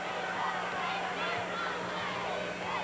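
A gymnasium crowd murmurs steadily at the 1982 IHSA Boys Class A basketball championship between Lawrenceville and Monmouth. The broad, even hum of many voices fills the hall without a clear peak.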